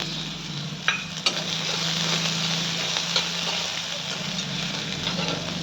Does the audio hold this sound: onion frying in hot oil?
yes